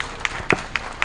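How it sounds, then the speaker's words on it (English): A handful of sharp, evenly spaced claps ring out at a women's leadership forum event in Johannesburg, sparse and brief rather than a full ovation. "A strong round of applause, please."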